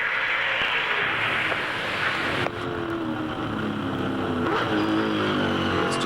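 A 2003 V8 Supercar at the Surfers Paradise street race runs on seven cylinders, its engine note sounding flat: a loud, continuous, rough drone held close for the whole stretch, with no voices over it.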